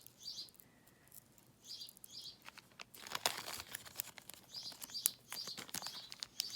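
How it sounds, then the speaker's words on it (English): Sparrows nesting just outside a window give repeated faint, high chirps in short bursts, with crinkling and rustling handled close by between them. "Sorry about the sparrow. They decided to nest right outside of our window here."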